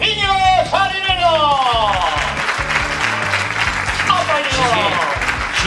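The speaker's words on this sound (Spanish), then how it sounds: "os pido un fuertísimo aplauso para mi compañero" A crowd gives sustained applause for the companion Iñigo Sarinero, a steady wash of clapping mixed with loud, rhythmic music and sweeping tonal glides.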